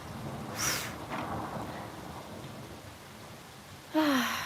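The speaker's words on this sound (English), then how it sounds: "I love the rain nonetheless." Rain falls as a steady, moderately loud hiss throughout, broken by a couple of brief breathy vocal sounds.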